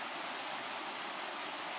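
Bering Falls in Glacier National Park pours down in a steady, dense roar of falling water, close and continuous without a break or any voices.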